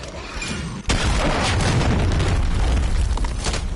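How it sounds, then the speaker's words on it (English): A stun grenade detonates in a video game's hardpoint match: a sudden, loud, close blast at about one second swells into a sustained, rumbling roar that carries through to the end. "Throwing stun grenade."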